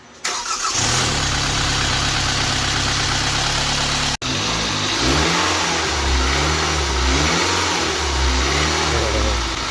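A Kia Soul engine cranks and fires up, settling into a loud, close idle, then gets revved in several rising and falling pulses after a brief cut.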